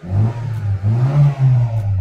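A car engine revs steadily up and down after its throttle body and idle air control valve were cleaned and recalibrated, a loud, close, continuous mid-pitched drone with no voices.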